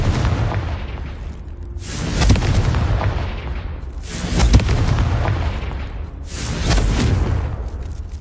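Fiery spell explosions from the Confringo curse in Hogwarts Legacy, three heavy booming blasts in a row, each a loud broadband burst that rumbles and fades over a steady low background.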